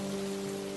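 A cartoon rain sound effect plays as a steady, even hiss of falling rain with a faint, constant hum running underneath, uninterrupted and without voices.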